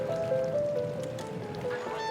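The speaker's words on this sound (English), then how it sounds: "The mute swan is among the largest waterfowl on the planet." Mute swans, large waterfowl, give soft nasal honking calls that overlap one another over a steady background murmur, moderately near and continuous throughout.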